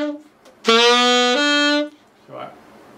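Saxophone playing the chorus phrase of a song, a single bright sustained note about a second long that steps up in pitch partway, close and clear, followed by a faint breathy sound.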